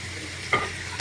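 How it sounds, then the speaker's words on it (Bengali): Crab and potato curry is stirred in a pan, a brief steady sizzle with one scrape and clink of the spoon against the metal and another lighter one just after. "কাঁকড়া দেওয়ার পর ভালো করে নাড়াচাড়া দিয়ে এবং হালকা একটু কষানোর পর এখন আলুগুলো দিয়ে দিব"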